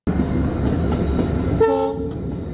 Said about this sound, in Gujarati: થોડીક વાર રાહ જોઈ તો આવી ગઈ ફાઇનલી ટ્રેન